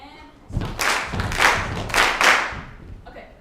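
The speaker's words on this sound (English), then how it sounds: "Stomp, clap, stomp, clap, stomp, clap, clap." An audience stomps and claps together in a repeating seven-beat pattern, with heavy floor thuds alternating with bright hand claps. The crowd is loud and close in a recital hall and performs without speaking.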